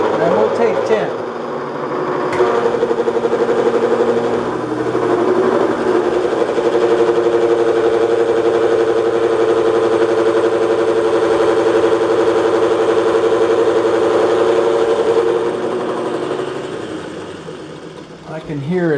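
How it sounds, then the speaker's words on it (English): A machine motor runs steadily under load while cutting marine metal stock on a raised table, a loud continuous hum with a faint strain. Near the end the pitch falls as it slows, and a voice talks over part of it. "I can hear it's getting ready to bog down that motor"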